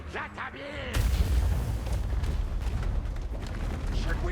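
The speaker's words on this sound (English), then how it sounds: "And clan rats exploding into jam." Clan rats explode in a Total War: Warhammer 2 battle, a loud rumbling blast that opens into sustained booming, crackling battle noise, with a short, quieter stretch of game sound before it.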